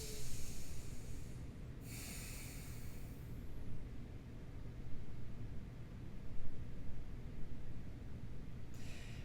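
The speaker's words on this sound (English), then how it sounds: "Deep, beautiful breath." A deep breath taken in a relaxed seated yoga pose, as a long, steady, close rush of air that rises and falls over several seconds against a constant low hum, with no talking.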